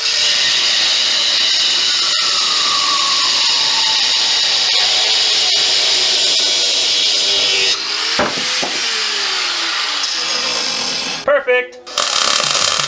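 A power tool grinds steadily through the end of a metal truck crossmember mount, a loud sustained whine that shifts pitch as it cuts, then stops and is followed by scraping and clatter.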